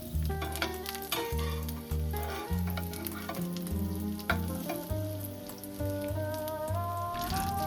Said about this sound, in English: After about 3 minutes, carefully flip the patties and cook for another 3 minutes on the other side.